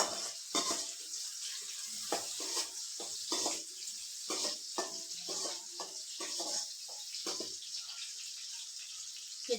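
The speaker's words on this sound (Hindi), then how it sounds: "ये मेरी कढ़ाई में तेल गरम हो चुका है और अब मैं इसमें डाल दूंगी प्याज।" Onion frying in hot oil in a kadhai, a steady broad sizzle with bursts of crackle and spatter running throughout, close and fairly loud, with no talking.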